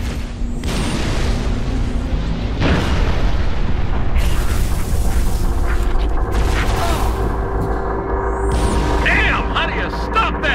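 Artillery fire support strike in Halo: Reach, heavy booming explosions rolling in one after another, loud and sustained with mechanical rumble, while voices speak over the barrage.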